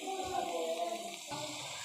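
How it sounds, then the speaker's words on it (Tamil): Water poured into a pan of sautéed ridge gourd, giving a steady close splashing hiss with a brief sizzle that shifts partway through, alone without talk. "இந்த நேரத்தில் நம்ம தேவையான அளவுக்கு தண்ணி ஊற்ற போகிறோம்."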